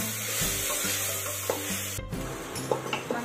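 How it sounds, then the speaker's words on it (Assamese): Marinated chicken for biryani is stirred in a pressure cooker, with a steady sizzle and frying hiss under a few scraping knocks of the spoon against the pot, close up and continuous. "মাংসখিনি মই অকণমান লৰাই দিছোঁ"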